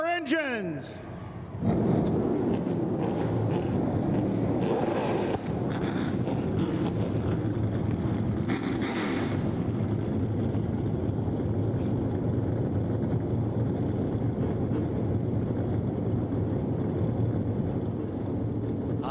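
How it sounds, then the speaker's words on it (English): ARCA Menards Series stock cars fire up at the DuQuoin State Fairgrounds dirt track, engines catching after a brief crank and settling into a loud, sustained idling roar, with voices mixed in. "Ladies and gentlemen, start your engines."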